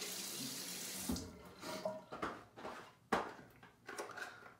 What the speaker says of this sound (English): I'm gonna wet the face.